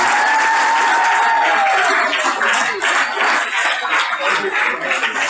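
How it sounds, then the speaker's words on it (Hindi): Audience applause in a hall during a Hindi-language motivational business seminar, a dense, steady wash of many hands clapping for the full length, with a whistle-like tone sliding through early on. "तालियां बड़ी कम बज रही"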